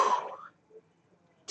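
An adult coughs and clears the throat, a lingering cough after COVID, one rough burst at the start then a faint follow-up and a short catch at the end.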